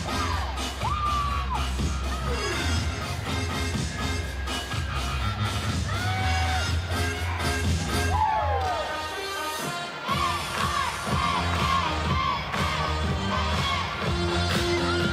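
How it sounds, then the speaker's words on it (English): Teammates shout and whoop encouragement for a gymnast during a floor routine at a meet. Bursts of yelling and cheering ride over loud, upbeat floor music with steady beats, and crowd noise fills the space throughout. "Her teammates are doing a great job cheering her on."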